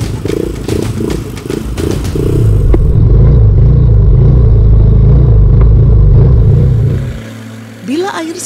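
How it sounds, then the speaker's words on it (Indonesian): A motorcycle crosses a river during rain in an Indonesian teak forest, its engine roaring loud and close with steady revving and clattering, then dropping away near the end. "Di tengah hujan yang masih mengguyur, motor andalan ini kembali ditantang menaklukkan sungai"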